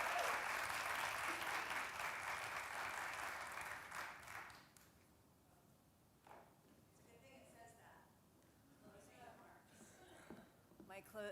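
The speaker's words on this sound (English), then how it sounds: "We can applaud." An audience at a theatre and dance MFA graduation ceremony in a room applauds, a dense burst of clapping for about four seconds that stops abruptly, followed by quieter room sounds and faint talk.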